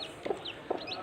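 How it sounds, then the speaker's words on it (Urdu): Five newly hatched chicks give soft, high chirps and peeps close by, with two brief louder bursts standing out from a low, steady background. "یہ آپ دیکھیں، 5 چوزے نکل چکے ہیں، بہت ہی پیاری چوزے ہیں۔"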